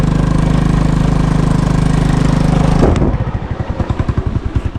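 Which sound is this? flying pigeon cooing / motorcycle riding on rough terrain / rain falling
motorcycle riding on rough terrain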